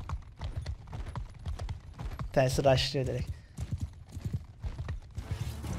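Horse hooves clatter in the Mount & Blade II: Bannerlord video game, a fast run of sharp clip-clops with a brief whinny-like burst, under someone speaking Turkish.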